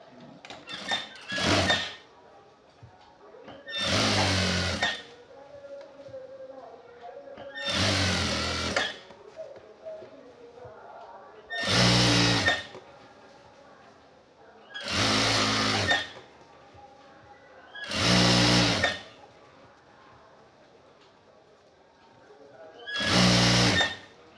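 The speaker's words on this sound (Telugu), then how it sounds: "ఇప్పుడు పైనుంచి బెల్ట్ మీద కుట్టేసుకోండి" A sewing machine stitches the waistband of khadi cloth shorts in seven separate loud bursts, each a second or two long, with quiet handling between runs.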